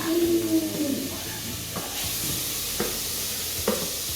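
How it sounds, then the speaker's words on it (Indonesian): Ghee or margarine melts and sizzles in a Sanken electric cooker, a soft steady frying hiss close by with a few light scrapes and clinks. "kita tumis sampai minyak samin atau margarin ini cair"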